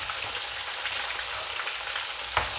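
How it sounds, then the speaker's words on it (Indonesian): Fish frying slowly in hot oil until crunchy, giving a steady dense sizzle with soft crackles and a brief sharper pop near the end, close and continuous with no talking. "Ini ikannya digoreng sampai bener-bener crunchy ya"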